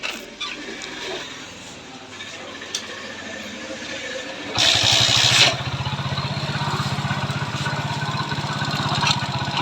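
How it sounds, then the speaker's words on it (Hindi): Repaired motorcycle engine with new piston and valves and fresh oil, starting with a loud burst and settling into a steady, rapidly pulsing idle, heard up close after quieter workshop background. "अब चलिए हम बाइक को स्टार्ट करते हैं और आपको दिखाते हैं।"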